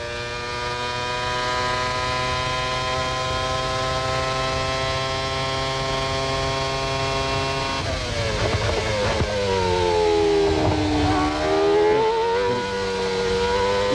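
Formula 1 car from the 1997 Spanish Grand Prix accelerating hard out of a curve, its high-pitched engine wail rising steadily through the gears, then dipping and climbing again as a second pass follows, loud and continuous with no talk.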